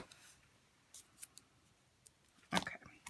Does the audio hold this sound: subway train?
no